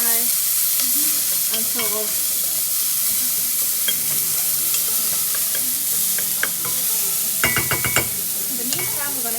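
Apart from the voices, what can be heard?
aromatics frying in a pan for tomato pasta sauce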